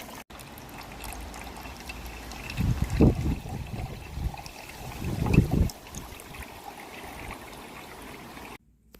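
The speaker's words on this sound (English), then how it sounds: "Still juice coming." Apple juice trickling and pouring from a home-made cider press, a continuous watery dribble with a couple of louder gushes, close by and with no talking.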